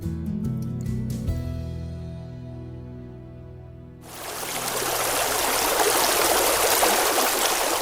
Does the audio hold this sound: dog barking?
no